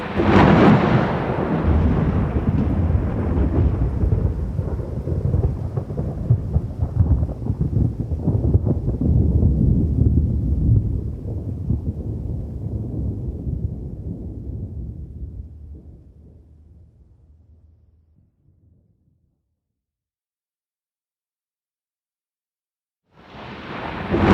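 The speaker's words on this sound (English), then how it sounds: "one more powerful flash of lightning, followed by a loud cry of thunder" Heavy thunder from a thunderstorm rumbles loud and close, rolling for about fifteen seconds before fading to silence, then a fresh crack bursts in at the end.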